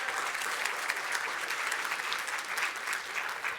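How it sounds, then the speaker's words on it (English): A room full of people gives a sustained round of applause at a welcome and housekeeping session, many hands clapping evenly and close without a break. "Give them a big round of applause"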